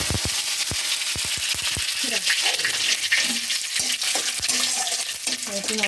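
Curry leaves dropped into hot oil already holding cardamom pods and cloves, giving a bright crackling sizzle with sharp pops and spattering, while a spoon stirs and clinks against the pan.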